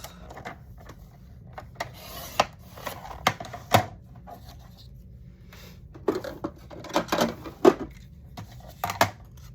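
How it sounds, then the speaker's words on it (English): Journaling cards for a paper towel roll flipbook are trimmed and their corners rounded, giving scattered quiet snips, clicks and paper rustles at close range, with irregular louder taps between softer handling sounds. "Let me cut my journaling cards just a little bit and round the corners."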